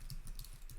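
A brief, quick burst of keystrokes on a computer keyboard, several sharp clicks close by with no talking.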